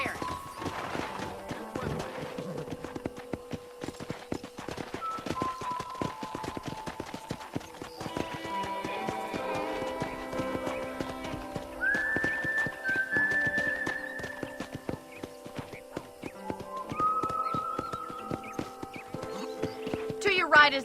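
Horse hooves clip-clop steadily throughout a ride in the Red Dead Redemption video game, with occasional neighing and music-like tones, while characters talk over it.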